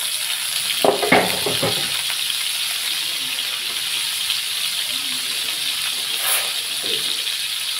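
Fish pieces frying in hot oil in a pan, a loud continuous sizzle and crackle with a brief clatter of pieces dropping in near the start, steady to the end with no voices.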